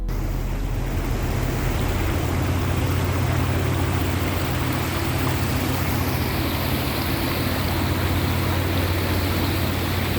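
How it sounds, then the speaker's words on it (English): Steady rushing water of Cheonggyecheon Stream, an urban stream in Seoul, a continuous broadband wash with a low rumble, even and unbroken throughout with no voices. "the gentle sound of flowing water creates a peaceful atmosphere"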